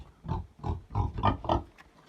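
Mangalica pigs grunt close by in a quick series of five or six low, snorting grunts, spaced about a quarter second apart.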